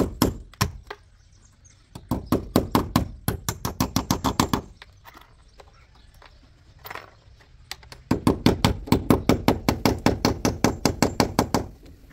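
A hammer drives a nail to lock a pipe in place on a wall being plastered, heard as two runs of rapid, evenly spaced sharp blows separated by a quiet pause, close and loud.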